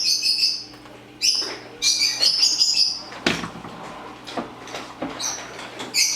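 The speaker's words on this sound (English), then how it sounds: "you guys hear those damn birds" Birds chirp outside a home kitchen in short bursts of high tweets and calls, moderately close, with clatter and thumps from cooking around them and no speech.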